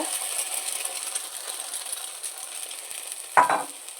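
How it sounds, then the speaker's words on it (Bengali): Beaten egg poured into a hot pan for chira pulao, a steady sizzle under a sharp splash-and-hiss burst near the end, close and without talk. "ডিম ফাটিয়ে রেখেছিলাম সেটাকে দিয়ে দেব"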